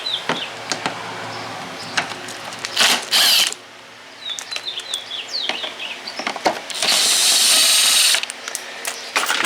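A power driver backing out Torx 25 screws on the front bumper of a 2020 Ford Transit, loud whirring bursts with ratcheting clicks between pauses, close by, no talk.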